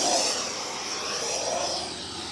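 An FMS Avanti S 90mm electric ducted fan RC jet on a 6S pack spools up for takeoff, a steady loud whooshing whine holding level throughout, with no talk.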